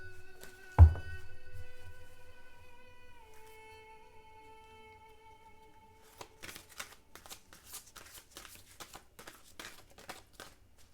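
Psychic reading cards being shuffled by hand, a quick flurry of soft riffling snaps after a thump and a fading ringing tone, close and clear with no talking.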